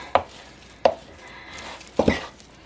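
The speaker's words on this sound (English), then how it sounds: "I'm just cutting into it like a knife instead of stirring it" Sharp, close, chopping-like thuds sound as a utensil cuts into vegan gluten dough in a bowl with flour at the bottom. There are three or four distinct strikes spread over a couple of seconds, with the last two close together.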